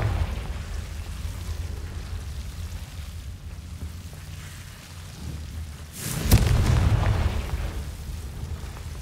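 A Confringo fire spell from the Hogwarts Legacy video game bursts in one loud, low booming blast midway, rising abruptly out of a steady rumbling game ambience with no talking.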